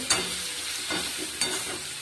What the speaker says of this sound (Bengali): এখানে উচ্ছে আলু ভাজা চাপিয়ে দিয়েছি নুন আর হলুদ দিয়ে